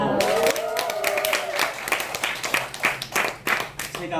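Audience at a laughter-instruction class breaking into applause, separate claps rising over a fading voice and music, growing into uneven bursts that come and go.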